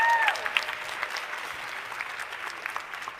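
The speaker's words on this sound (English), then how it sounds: "Everybody give her a round of applause." Steady applause from a school band concert audience in a gym or auditorium, a dense patter of many hands at moderate loudness that continues evenly throughout without a break.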